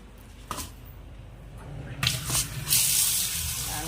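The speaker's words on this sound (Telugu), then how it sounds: "దీన్ని వాటర్ పోసి" Water is poured into a bowl of toor dal to soak it, a soft splash at first that swells into a steady, close, rushing pour over the last couple of seconds.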